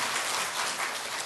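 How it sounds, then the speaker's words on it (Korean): Church congregation clapping in thanksgiving during a Sunday worship service, a brief steady burst of many hands applauding together at moderate distance. "하나님 앞에 감사와 영광의 박수를 힘차게 올려"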